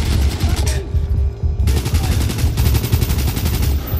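Dense rapid gunfire from the Call of Duty: Black Ops video game, loud bursts of automatic shots with a brief lull before firing resumes, continuous throughout with faint game sounds behind.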